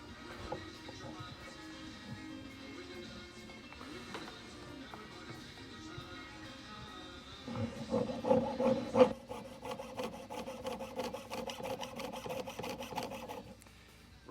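Jeweler's hand saw cutting metal in a studio, the blade waxed beforehand. Rapid rasping back-and-forth strokes grow louder midway and continue steadily, with faint background noise.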